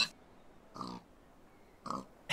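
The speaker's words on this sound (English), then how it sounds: "We got pigs!" Pigs oinking in the survival city-building game Frostpunk, three short grunting bursts spaced over a couple of seconds against a quiet dark background.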